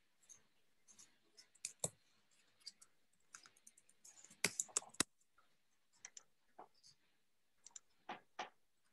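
Keys clatter on a computer keyboard as a short delivery message is typed, a close, irregular run of crisp clicks in bursts with brief pauses and a faster flurry midway.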